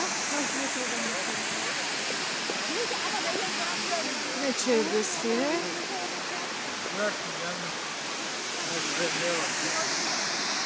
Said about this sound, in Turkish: Korkum şelalesi.